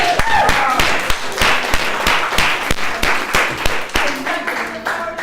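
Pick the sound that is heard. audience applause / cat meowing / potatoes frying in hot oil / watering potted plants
audience applause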